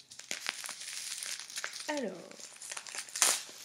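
Crisp crinkling and tearing of wrapping paper in quick, irregular bursts, close up, with a brief spoken word partway through.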